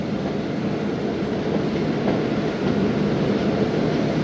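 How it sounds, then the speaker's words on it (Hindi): Train arriving at Sahiwal railway station, a steady broadband rumble of rolling stock and wheels on rail, fairly loud and close throughout with no voices. "6:40 पर दोस्तों ट्रेन का अराइवल हुआ है साहिवाल रेलवे स्टेशन"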